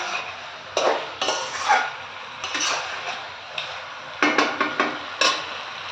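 Chicken pieces being stirred and turned in a pan with fried masala while cooking chicken kasa, giving intermittent scraping and clinking bursts of spatula against metal, close and moderately loud, with no talking.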